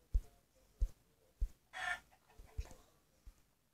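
Chickens in a video game cluck in short, evenly spaced bursts, with one brief squawk in the middle, fairly quiet against a still background.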